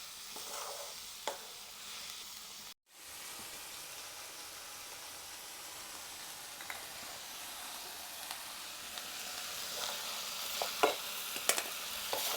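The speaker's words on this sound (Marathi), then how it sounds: "आता हे सगळं हलवून घेऊ तर हे बघा भाजीचा मस्त छान वास उठलाय" Vegetable curry being stirred in a pan, a steady soft sizzle with scraping stirs and occasional louder clacks of the spoon against the pan, continuing without talk.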